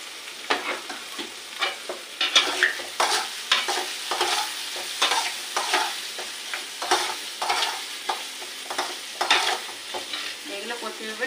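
Chopped onions frying in a hot pan while being stirred, with repeated close scraping strokes in an uneven rhythm over a steady sizzle, no voices.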